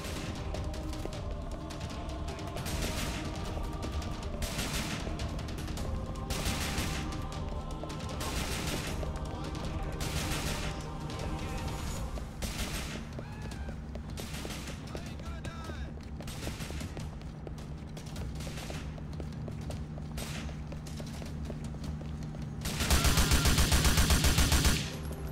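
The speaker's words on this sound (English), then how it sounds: "Who's shooting?" Gunfire in the video game GTA IV, with repeated sharp shots and bursts spread through a busy game soundscape, ending in a loud dense volley near the close.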